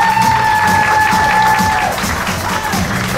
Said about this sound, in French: j'aimerais qu'on applaudisse